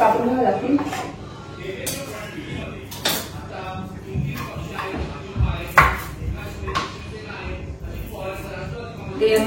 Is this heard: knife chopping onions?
yes